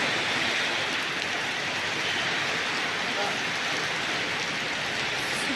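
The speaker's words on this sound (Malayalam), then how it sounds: "സൂപ്പർ മഴ, ഭയങ്കര മഴ." Heavy rain pours down in a steady, dense roar that fills the whole clip at constant loudness, close and enveloping with no pauses.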